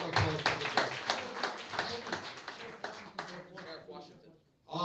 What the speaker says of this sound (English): Let's give a round of applause for the judge.